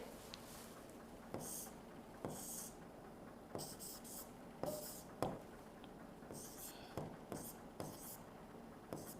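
Handwriting during an Arabic grammar lesson makes soft, scratchy strokes in short repeated bursts, faint and close, with brief pauses between them and a quiet voice at times.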